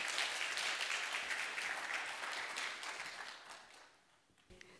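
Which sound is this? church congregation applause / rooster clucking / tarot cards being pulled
church congregation applause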